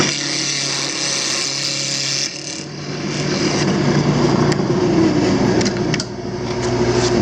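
A power saw cuts cedar wood held in a sawdust-clearing jig, a steady close whirring drone that shifts in pitch as the blade bites into the wood.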